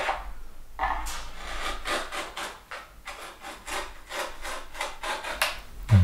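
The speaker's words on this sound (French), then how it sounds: "c'était quand même beaucoup plus rapide au ciseau à bois" A wood chisel roughs down a brace for a baritone guitar back, giving repeated close scraping and shaving strokes in an uneven rhythm with short pauses between cuts.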